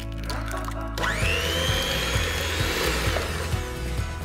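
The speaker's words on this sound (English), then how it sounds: "I'm just going to mix this with a hand mixer" A hand mixer whirs into muffin batter for gluten-free blueberry and banana muffins. It starts abruptly after a second and settles into a steady, close motor hum with its pitch rising at first and a soft repeating rhythmic knock of beaters against the bowl.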